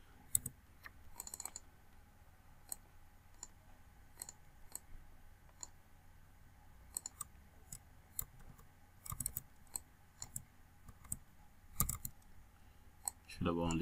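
Soft, irregular clicks and key taps come from a computer keyboard and mouse while a label is typed into structural design software, faint and fairly close against a quiet room with a little low hum.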